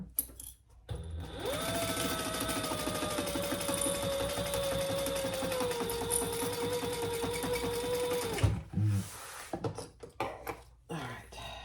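Sewing machine stitching a full-allowance seam on a zippered triple sling, one steady close run of rapid mechanical whirring for about seven seconds, then a few brief clicks and handling noises.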